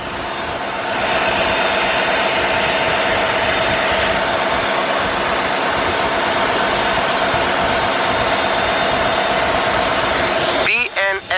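A BNSF freight train passes near the border with a loud, continuous rumble and clatter of rail cars that lasts throughout, and a voice comes in briefly at the end.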